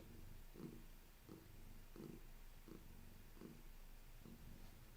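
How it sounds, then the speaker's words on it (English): A cat purrs steadily close up, the low rumbling pulses repeating about every two-thirds of a second with no talking. "But can you hear her purr or not?"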